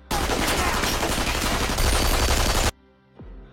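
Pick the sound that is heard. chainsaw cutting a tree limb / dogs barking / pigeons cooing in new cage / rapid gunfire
rapid gunfire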